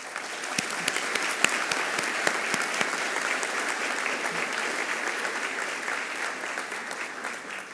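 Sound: applause for students receiving Latin honors

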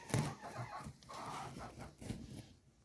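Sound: young white hen clucking on nest

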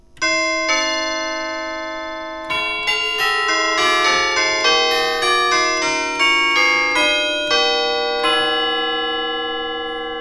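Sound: 1950 Deagan Canto electric bell carillon chimes playing

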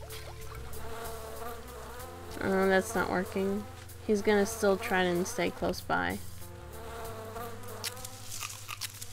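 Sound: bees buzzing in Virtual Villagers video game

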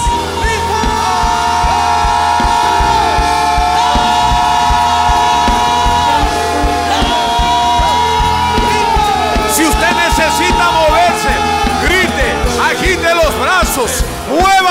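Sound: church congregation shouting together

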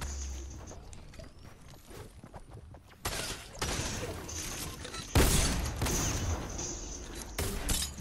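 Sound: gunfire in the video game Fortnite

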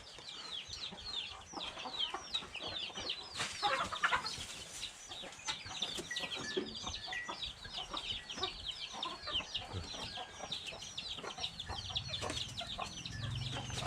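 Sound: backyard chickens clucking

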